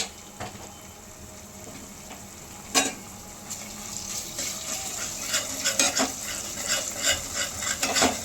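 Homemade ginger-garlic paste fries in a pan for a Telangana-style crab curry, giving a soft steady sizzle with scraping stir strokes and occasional clinks of utensil against metal, close and continuous.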